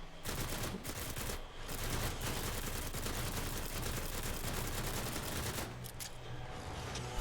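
Rapid gunfire rattles nonstop through a shooter scene in the game Dreams, dense bursts of automatic shots, fairly quiet and continuous with only brief gaps.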